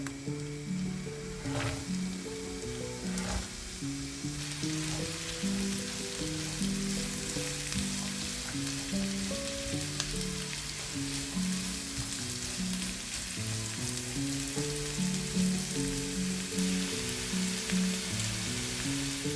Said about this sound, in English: Add the chopped onion and cook it until it turns beautifully golden